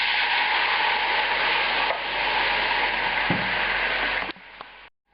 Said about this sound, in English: Now I'm going to add that porter.